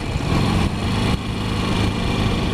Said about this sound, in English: If you hear, I am downshifting into some of these turns